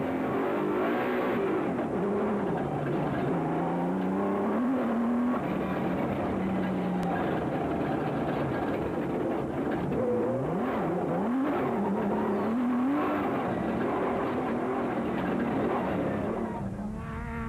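Rally vehicles race through a Toyota Dealer 400 stage, including a Nissan Hardbody, with engines revving and rising and falling in pitch continuously as they accelerate, fairly loud and steady throughout with no talk.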